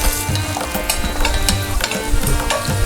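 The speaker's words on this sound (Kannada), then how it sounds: "ಸ್ವಲ್ಪ ಬೀನ್ಸು, ಸ್ವಲ್ಪ ಗಜ್ಜರಿ, ಸ್ವಲ್ಪ ಹಸಿ ಬಟಾಣಿ ಇದೆಲ್ಲವನ್ನು ಹಾಕ್ಕೊಂಡು ಸರಿಯಾಗಿ ಬಾಡಿಸ್ಕೊಳ್ಳಿ" Onion, beans, carrot and green peas sauté loudly in a pan for rice bath, a steady sizzle broken by repeated scraping stirs of a spoon against the pan.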